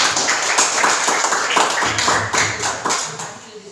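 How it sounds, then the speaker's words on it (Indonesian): A classroom of students applauds after a group discussion presentation, giving a brisk run of close, crisp hand claps that softens and thins out toward the end. "Jadi kita berikan aplaus kepada"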